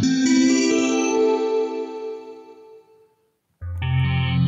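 A wavetable synth patch plays on the CUBE Synth app by Virsyn on an iPad: a rich, chorused, echoing tone that sustains and slowly fades to silence. A second loud note then enters sharply.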